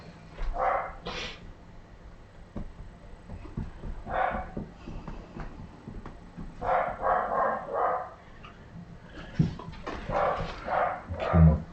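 A dog barks in short bursts, spaced out and moderately close, over a quiet background, with no talking.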